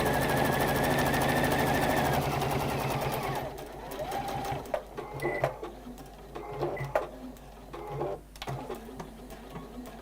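A sewing machine runs steadily for about three and a half seconds, stitching fabric, then gives way to short, uneven bursts of stitching with pauses, close and fairly quiet.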